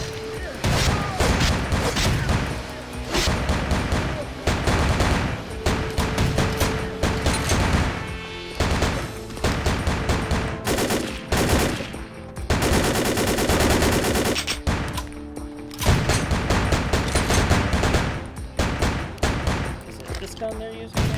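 Rapid bursts of automatic gunfire from an enemy kill squad in the Vampire: The Masquerade video game, dense and continuous over a game soundtrack, with speech from the player.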